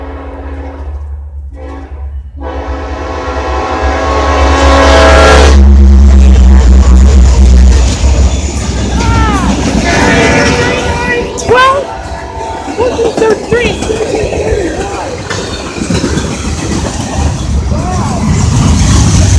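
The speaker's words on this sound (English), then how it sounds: "Alright, here comes the train." A Union Pacific-led freight train rumbles closer and passes loudly with a heavy low locomotive engine drone, while people talk over the noise.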